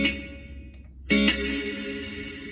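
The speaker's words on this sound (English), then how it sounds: "I knew that reverb could fill space, so I searched for a really deep," A trebly guitar part runs through a deep, wide ambient reverb recorded on a Tascam DP-006, its sustained notes washing into a long, shimmering tail after a bright attack.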